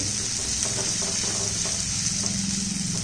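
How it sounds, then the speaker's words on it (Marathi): Tomato sautés with onion in a pan for potato rasa bhaji, a steady close sizzle with faint soft stirring taps throughout. "आता टोमॅटो आपल्याला त्यामध्ये परतून घ्यायचा आहे चांगला मऊ शिजू द्यायचा आहे"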